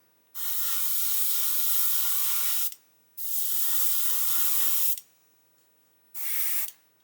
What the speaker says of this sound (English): I just want to see if my airbrush is clogging up again